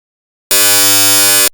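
An amplitude-modulated signal generated in Python, a 1000 Hz carrier modulated by a 100 Hz message, comes through as a loud, harsh buzz lasting about one second and cutting off sharply.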